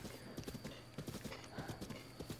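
Horse hooves clip-clopping as a rider travels in Zelda Breath of the Wild, a quick, regular rhythm of close, distinct hoofbeats with a faint whinny-like tone mixed in.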